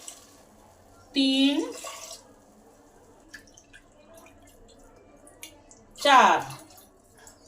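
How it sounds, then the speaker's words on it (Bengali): Milk poured into a pressure cooker for payesh, two short splashing pours a few seconds apart, close by, with a quiet pause between them and brief counting speech. "আমি এখানে 4 বাটি দুধ যোগ করছি।"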